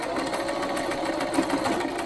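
A sewing machine runs steadily, stitching a fabric boho turban-knot headband, with a continuous close, even motor whir and no talking.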